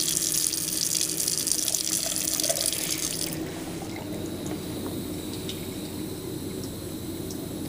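Running tap water pours into a sink as a lab test rod is rinsed, a steady broadband gush that cuts off after about three seconds, leaving a quieter room hum.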